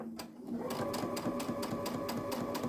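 A sewing machine stitches fabric quilt pieces, its motor starting up and then running in a steady rapid rhythm of needle clicks, close and moderately quiet.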